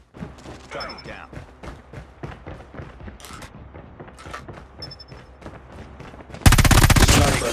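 Gunfire in Call of Duty Mobile during a ranked match: scattered rapid shots and bursts under voiced game announcements, ending in a sudden loud sustained barrage of automatic fire.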